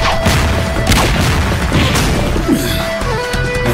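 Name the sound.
animated sand smashing up the ground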